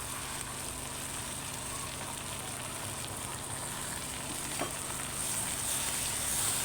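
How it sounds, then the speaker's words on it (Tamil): Greens are sautéed with onion and tomato in a pan, giving a steady, fairly faint hiss of frying that stays even throughout, with one small scrape of stirring and no voices. "நல்லா வெங்காயம் தக்காளியோடு ஒன்றா கலந்து நல்லா வதக்கி விடுங்க."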